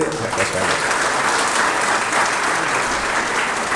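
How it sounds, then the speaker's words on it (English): Loud, dense applause fills a seminar hall at Narayana Multispeciality Hospital in Ahmedabad as a swami is welcomed on stage, steady and sustained with no break. "Zordar तालियों"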